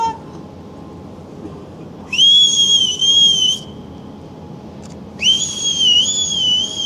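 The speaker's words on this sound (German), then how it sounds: "Pfeife!" Two long, loud blasts of an AIDA cruise ship's whistle at sail-away, each steady and piercing for about a second and a half, separated by a short pause over low crowd and harbor ambience.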